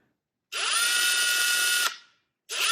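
A Ryobi P238VN three-speed impact driver spins up at its low speed setting in a loud, steady whine that lasts over a second and then winds down, followed by the start of a second burst.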